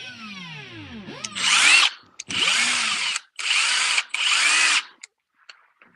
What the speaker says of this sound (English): Mine's an impact gun, not a drill.